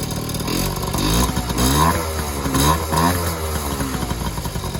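A Honda Urban Express motorcycle engine idles close by with a steady, slightly rough putter and mild surges in revs, running alone without talk.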